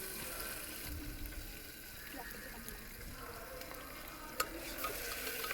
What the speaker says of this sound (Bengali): আমি পেঁয়াজগুলো ভেজে মরিচ, আদা, জিরে এগুলো দিয়ে নেড়ে নিচ্ছি ভালোভাবে।